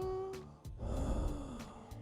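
Heavy breathing and gasps from a character in the video game Quarantine Zone, a few close, rasping breaths over a steady game backdrop with low rumble.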